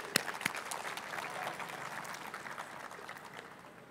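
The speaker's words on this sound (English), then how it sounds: "Please join me in welcoming the both of them with a warm applause." An audience at a lecture on financing sustainable development claps in welcome, a few sharp claps at first, then a soft, even patter of applause that fades gradually, heard at a distance and without speech.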